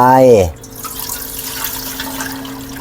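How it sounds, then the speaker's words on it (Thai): A brief voice at the start gives way to plain water being poured into a cooking pot, a soft running and trickling sound that continues at moderate volume with a faint steady tone underneath. "เอาน้ำเปล่าเทใส่ลงไป"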